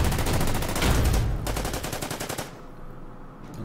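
Gunfire at a Valentine tank in the strategy game Order of Battle comes as a loud, dense rattle of rapid shots for over two seconds, then stops and leaves a quiet tail.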